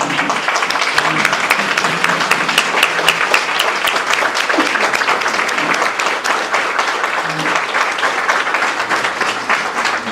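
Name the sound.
applause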